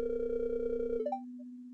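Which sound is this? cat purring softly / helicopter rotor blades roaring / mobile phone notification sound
mobile phone notification sound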